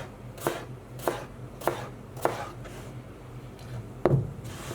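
Potatoes being diced on a chopping board with a knife, six sharp chops at an uneven, unhurried pace, close and clear with no talking.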